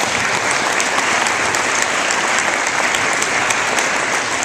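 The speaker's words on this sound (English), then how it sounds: "Give them a round of applause." An audience in a gymnasium applauds, a dense, even wash of clapping from many hands that stays loud and steady throughout without pause.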